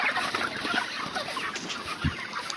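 A crowded flock of 27-day-old broiler chickens clucks and chatters continuously nearby, many birds overlapping into a dense, busy murmur.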